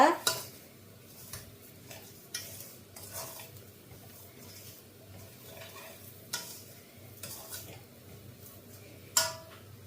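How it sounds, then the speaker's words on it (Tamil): Roasted semolina, coconut and sugar are mixed in a pan with steady scraping strokes and occasional sharp clinks of the spoon against the metal, moderately close, without talk. "இப்போ போட்டுட்டு இதை நெல்லை வடிவாக மிக்ஸ் பண்ணி கொடுங்க"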